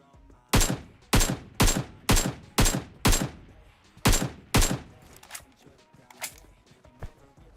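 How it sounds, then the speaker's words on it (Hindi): Rapid bursts of video game gunfire, about eight loud evenly spaced shots followed by fainter scattered shots further off. "नीचे स्कूल की तरफ से दबा के गोलियां चल रही है"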